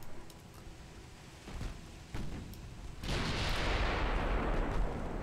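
Heavy naval gunfire from 4.4-inch guns on transport ships in a 1920s-era naval strategy game, with a few scattered distant booms giving way to a sustained, loud rumbling roar of shellfire in the latter half.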